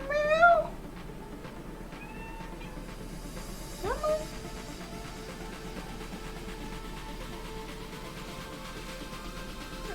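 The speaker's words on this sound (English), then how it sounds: "I hope you guys could have heard that, like, that meow" Wheatley the house cat lets out a short, clear meow near the start and a second briefer meow a few seconds later, both close against a quiet indoor hum.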